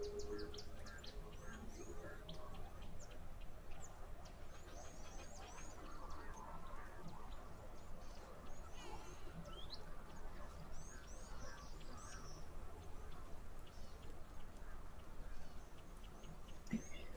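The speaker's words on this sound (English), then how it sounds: "lots of conflict with the ducks, knob-billed ducks at this time while fighting for the female's affection" Knob-billed ducks call and squabble at an African waterhole during breeding season, repeated harsh honks and chirps scattered over a steady outdoor background of distant birds.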